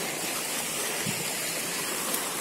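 A swollen mountain river at Paraje Baritú in Salta rushes loudly beneath a small footbridge, a steady, dense roar of churning water filling the whole moment without a break.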